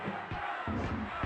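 A stadium crowd in the N64 football video game J-League Dynamite Soccer 64 roars and chants in a continuous wash with rhythmic pulses, steady and fairly loud with no talk.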